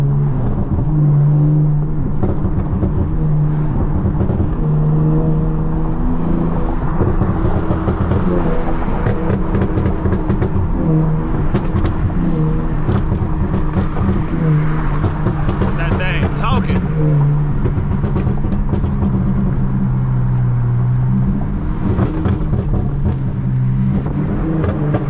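A V6 Dodge Charger rumbles and burbles loudly while driving, with the engine rising in occasional revs, heard from inside the car with people talking over it.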